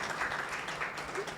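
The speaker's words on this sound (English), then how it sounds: "I think you can give a round of applause to that one" Conference audience at a plenary session on partnerships gives a round of applause, a soft, distant patter of many hands that stays fairly even and brief.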